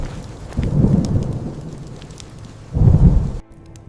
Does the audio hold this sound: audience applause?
no